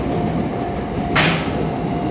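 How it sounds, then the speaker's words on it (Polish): A train passes a level crossing in Tokyo, a steady loud rumble of wheels and carriages filling the whole moment with a brief hissing swell in the middle, close by. "Proszę, aby teraz pociągi przejechały."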